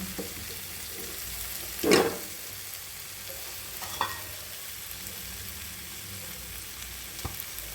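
Sweet mango pickle simmers with jaggery in a pan, a soft continuous sizzle under a sharp stirring clatter early on and a few lighter scrapes and clinks later, with no talking.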